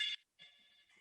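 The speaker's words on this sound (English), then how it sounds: "Did someone's phone just ring?" A phone rings in a quiet room, giving a bright electronic tone in two bursts separated by a short gap, the second one sustained, heard alone with no talking over it.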